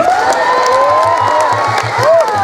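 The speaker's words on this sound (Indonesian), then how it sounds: "Tepuk tangan untuk PRT." Crowd cheering and clapping during a humorous Sundanese religious sermon, loud shouts and whoops over rhythmic low thumps, a boisterous audience reaction.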